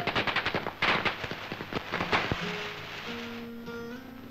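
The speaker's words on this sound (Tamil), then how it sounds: "ராமு, என்ன கொஞ்சம் பட்டாசு குடுறா." Rapid strings of firecrackers popping and cracking in quick bursts, loud and close, then fading out as a few sustained tones linger.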